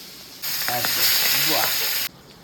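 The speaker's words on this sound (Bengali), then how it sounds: "মাছগুলো ভাজাভাজি চলছে এখন" Fish sizzles loudly in hot oil in a pan, a bright hiss that starts abruptly, holds for under two seconds and cuts off; a voice speaks faintly beneath it.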